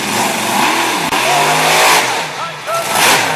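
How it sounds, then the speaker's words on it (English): A red Chevy monster truck revs its engine at a Monster Power night event in Manassas, Virginia, a loud sustained roar rising and falling under an announcer's commentary and crowd noise. "See what RIchie can do with the big red Chevy."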